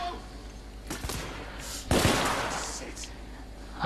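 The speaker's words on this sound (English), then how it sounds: "I love this pistol." Pistol shots in The Order: 1886 crack out as a few sharp, separate reports, the loudest near the middle, over a low background rumble with a voice talking.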